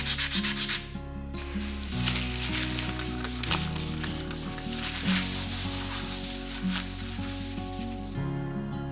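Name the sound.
sanding polyester putty repair on wooden flooring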